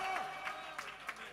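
A worship congregation clapping together in a steady rhythm, faint and somewhat distant, with a preacher's voice running beneath the claps.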